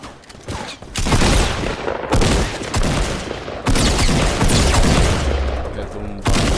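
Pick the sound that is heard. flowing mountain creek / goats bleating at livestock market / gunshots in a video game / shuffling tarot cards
gunshots in a video game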